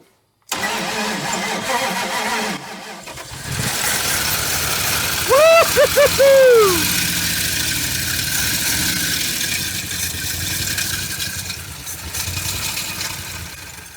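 A 1980 Dodge Power Wagon engine, after sitting twenty years, cranks briefly, then fires and settles into a rough, uneven idle that runs on steadily; a horn-like whine cuts in midway.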